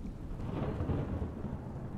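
Thunderstorm in the Smalland video game, a deep rolling rumble of thunder swelling and fading over steady rain, filling the whole stretch without any speech.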